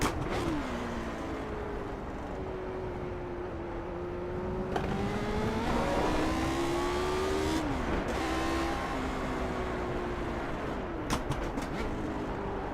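A tricky-to-drive race car lapping Road America in iRacing, driven with a foot clutch and shifter: a continuous loud engine drone that rises and falls through gear changes, with brief tire noise and no talk.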